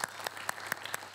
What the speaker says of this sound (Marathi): एकदा जोरदार टाळ्या सगळ्या कलाकारांसाठी